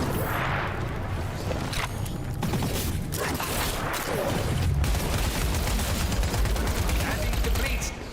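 Gunfire in the video game Wildgate, a steady mechanical rattle of shots layered over busy game noise throughout, with faint voices mixed underneath.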